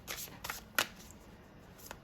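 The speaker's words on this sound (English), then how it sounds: "I'm going to pull a couple of these magical fairy cards for you" Old, worn magical fairy oracle cards being shuffled by hand, a few soft riffling flicks and one sharper snap, close and quiet.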